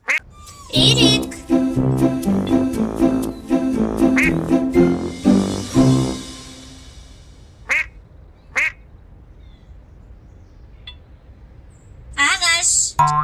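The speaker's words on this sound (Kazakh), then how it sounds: "үйрек" A duck quacks repeatedly and close up in a dense burst of harsh calls, then falls quiet. A few isolated calls follow, and a short voice is heard at the end.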